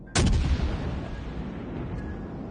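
A torpedo salvo fires to port in the naval battle game World of Warships Legends: one sudden loud booming launch, then a rumbling roar that slowly fades with faint distant battle noise behind it.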